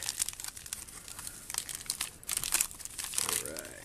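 Plastic wrapping on a French RCIR 24-hour ration drink package crinkles and tears as it is cut open, a busy run of close crackling handling noise with no talk.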